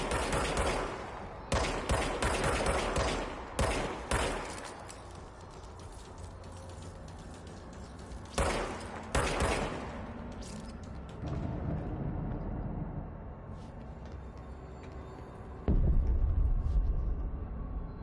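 Gunfire in Control on PS5 comes in several sharp bursts of rapid shots with quieter gaps and a low mechanical hum between them, and no talk.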